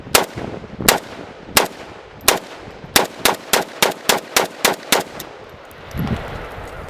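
A Romanian CGR AK-47 rifle fires outdoors, starting with a few spaced single shots and moving into a quicker run of about eight evenly paced sharp cracks, loud and close, before a rustle at the end.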